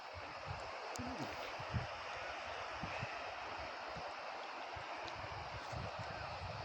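The Magtangcob river flows in a steady, broad watery rush, with occasional soft low thumps and no clear voices over it.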